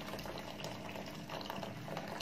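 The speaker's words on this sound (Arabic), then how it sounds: "انا بحطها على النار تغلي معايا بسرعة" Water with black seed, lemon and cinnamon boils in a pot on a stove, giving a steady, dense bubbling and hissing that holds at an even level throughout.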